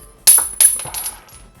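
Loose metal washers and bolts for rear toe arm installation on a Lexus IS300/GS300 drop and clatter onto a hard surface, with two or three sharp metallic hits in quick succession and a short rattling tail.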